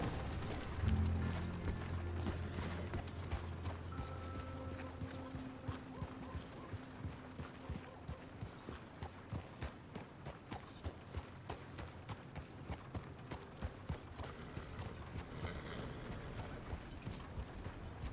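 A horse ridden through the countryside in Red Dead Redemption 2 clip-clops at a steady, even trot, its hooves tapping in regular rhythm over a low rumble of game ambience.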